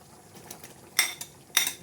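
Metal utensils clink against a pan as fried eggplant is added, with two sharp clatters standing out over quieter scraping, close by and without speech.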